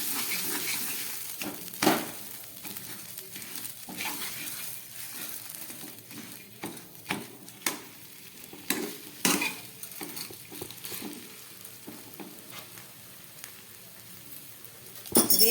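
Potato and green pea paste frying and being stirred in a pan, a low steady sizzle with scattered scrapes and clinks of the spoon, a few sharper knocks near the start and end.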